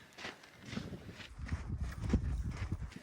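Horse hooves clopping on a hard trail at Quilotoa crater lake, Ecuador, several close-range steps in an uneven rhythm growing louder toward the end, with no talking.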